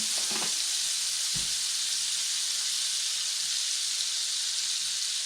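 Butter with a little cooking oil sizzles in a pan with a steady, bright frying hiss. It sounds close and continuous, with a few faint knocks near the start.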